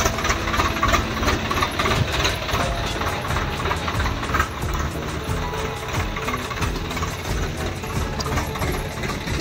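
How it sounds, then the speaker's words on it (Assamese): A tractor delivering a load of soil runs its engine continuously nearby, giving a steady, loud, rattling, knocking drone that holds throughout. "এফালে পূৰা ট্ৰেক্টৰ আহি গ'ল"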